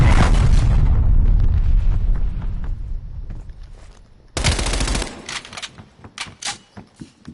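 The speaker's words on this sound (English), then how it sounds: "Artillery inbound." An artillery strike lands in a Call of Duty game: a heavy booming barrage that fades away, then a second burst of sharp, rapid blasts and crackling impacts, loud and close.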